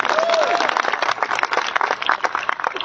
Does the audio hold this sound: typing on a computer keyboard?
no